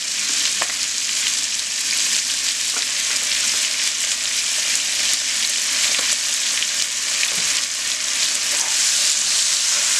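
Ground cumin and coriander paste sizzles and fries steadily in a hot pan, a dense continuous crackle with occasional stirring scrapes throughout, close and fairly loud with no talk.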